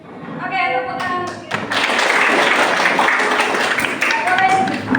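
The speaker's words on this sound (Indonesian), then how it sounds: "Oke, tepuk tangan." A classroom of students breaks into a dense burst of hand clapping that runs for several seconds after a brief spoken lead-in, loud and close, with a few scattered taps near the end.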